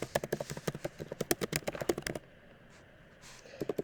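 Rapid clicking keystrokes on a computer keyboard, a close, steady run of taps lasting about two seconds, then a pause before a few more keys.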